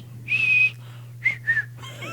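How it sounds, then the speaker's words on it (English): A person whistles through the nose, giving one longer thin high tone followed by two short bursts, close and clear over a faint low hum. "Caleb's got the nose whistle going on"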